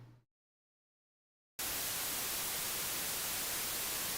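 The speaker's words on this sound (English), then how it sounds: "So if you're ever wondering what white noise sounds like, that's literally white noise" Loud, steady white noise bursts in abruptly after a short stretch of near silence and holds evenly until the end, a dense static hiss.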